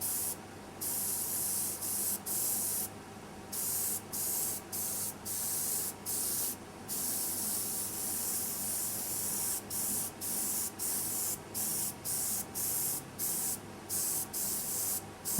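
Airbrush spraying paint in layers over a stencil, a close, soft hiss coming in repeated short bursts with brief gaps, some longer strokes and some quick taps, steady and without voices.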